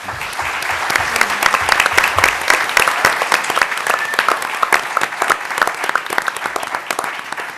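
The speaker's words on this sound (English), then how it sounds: "why don't we give a round of applause to all the panelists?" Sustained audience applause for a panel of speakers at a Let's Move! in Indian Country anniversary event, a dense, steady wash of many hands clapping that carries on without pause for several seconds.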